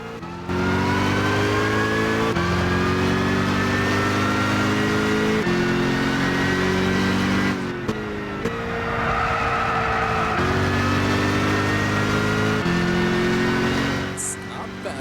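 A Dodge Challenger revs and accelerates through gear changes in Gran Turismo 6, its engine note climbing in steady harmonic sweeps with a brief lift around the middle, loud and continuous.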